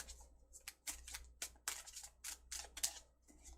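Tarot cards riffle and snap in quick bursts, repeated shuffles with brief pauses between them, close by and fairly soft.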